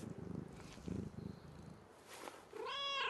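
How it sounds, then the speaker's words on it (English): A cat in the Fortnite video game gives a low purring rumble, then a rising meow-like call near the end, quiet and without talk. "The cat."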